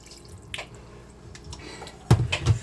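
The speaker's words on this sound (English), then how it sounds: "I am going to add a smidgen more water and mix that up." Water poured into a thick tuna casserole mix with mushroom soup, then stirred, heard as soft dripping and wet squishing close by, growing louder near the end.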